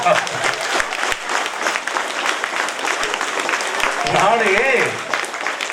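An audience at a motivational class at a school applauds in a steady, dense wash of clapping with crowd voices and chatter mixed in throughout.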